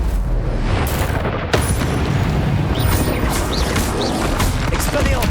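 Incendio fire spell blasts in Hogwarts Legacy: a sharp, loud impact followed by rushing, crackling bursts and whooshes amid busy, continuous combat noise.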